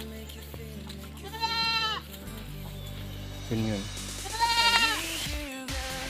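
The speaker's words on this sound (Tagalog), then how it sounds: "Pag nagliligawan at saka naghihit, naglalandi yung isang babaeng kambing." Goats on a farm bleat in several wavering, drawn-out calls, one of them a female goat in heat, with a person talking briefly between the cries.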